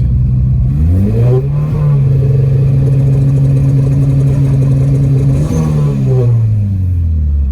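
Car engine held on a two-step launch limiter: a loud, close rev rises quickly, holds a steady high-rpm drone for several seconds, then drops back down.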